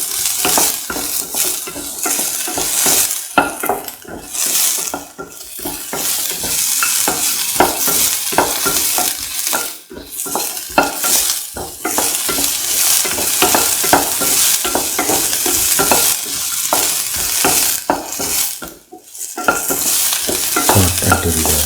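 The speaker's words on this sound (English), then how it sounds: "Saute until the onions become a golden brown." Onions with garlic and ginger sauteing in a pan for a mango plantain stew, a steady sizzle broken by frequent scraping stirs and clinks of utensil against pan, loud and close throughout with no talk.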